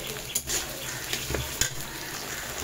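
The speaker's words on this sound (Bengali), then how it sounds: "আলুটা হালকা একটু নেড়ে চেড়ে ভেজে নেব" Thinly sliced potatoes frying in oil while being stirred, a steady sizzle with a few spatula scrapes and clinks against the pan, close and fairly quiet.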